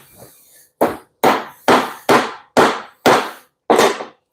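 Seven sharp, loud knocks in a quick, fairly even rhythm as a bushing is tapped into place on a Volkswagen gear shift linkage, with short silences between strikes.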